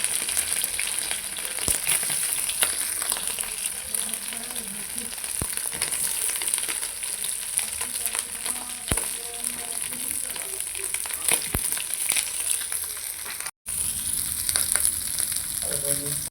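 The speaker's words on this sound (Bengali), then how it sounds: "তেল দিলাম, চিংড়ি মাছগুলো ভেজে নিচ্ছি" Prawns fry loudly in hot oil, a dense continuous close sizzle with scattered sharp pops and crackles, briefly cutting out near the end, with no voices.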